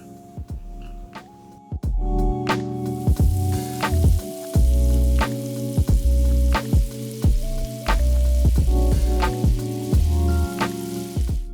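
Skin renders down in a frying pan in a restaurant kitchen, a loud close sizzle that swells after a quieter start, with repeated sharp pops and crackles over a low rumbling kitchen hum.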